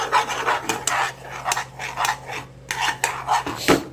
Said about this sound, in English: Stir that all up.